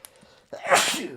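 A single close sneeze from a person during a relaxed lounge-chair conversation, a short breathy intake followed by a sharp, bright burst that trails off quickly.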